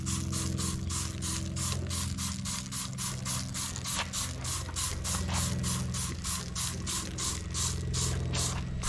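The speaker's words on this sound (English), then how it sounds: "I'm just going to spray this on this side dry." A steady hiss of Ballard Mower Magic cleaner spraying onto a filthy mower runs over a constant mechanical hum, with a fast rhythmic pulsing throughout; no voices.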